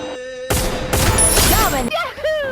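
Rapid bursts of gunfire from the Free Fire battle game crackle loudly in a dense volley, then give way to sharp whooshing game effects near the end.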